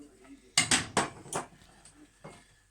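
Porridge with apricots and blueberries being dished from a pan into a bowl, with sharp metallic clinks and scrapes of a utensil against the pan coming in several close, uneven knocks followed by quieter taps.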